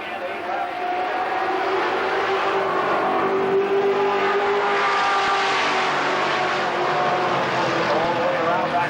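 Race cars roar together as the green flag drops at Kil Kare Speedway, a dense, steady engine drone with shifting revs, loud and continuous, while a track announcer talks over it.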